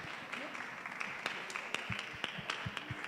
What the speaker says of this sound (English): Let's give a round of applause to our panelists as they exit the stage